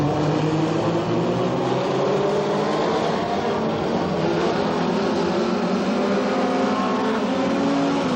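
Race cars roar around the Path Valley speedway oval, a dense, continuous wall of engine noise with overlapping motors droning steadily at close range, loud and unbroken throughout.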